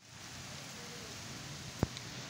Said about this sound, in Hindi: बहुत स्पीड से बारिश आ रही है।